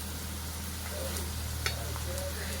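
Lote fish and potatoes frying in a pan, a soft constant sizzle with a few light stirring clicks, close but quiet and steady.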